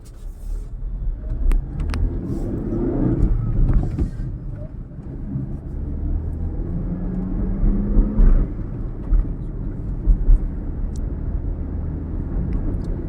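A used Renault Kwid hatchback is out on a test drive, and its engine gives a low, muffled rumble from inside the cabin. The drone rises and falls gently and continuously, with no talking.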